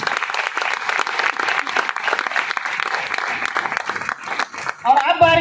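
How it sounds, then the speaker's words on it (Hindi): Audience applause at a Hindi-language gathering, loud dense clapping that runs steadily for about five seconds before fading into music at the end. "शानदार तालियां होनी चाहिए।"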